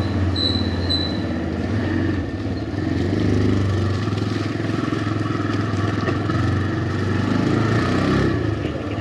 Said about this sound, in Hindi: इको मोड में ही हम बाइक को राइड करेंगे